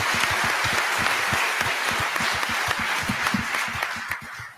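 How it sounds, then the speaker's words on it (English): An audience at a congressional candidate forum breaks into applause, many hands clapping in a full, steady wash with some distinct nearby claps standing out, tapering off at the close. "Give them all another good round of applause."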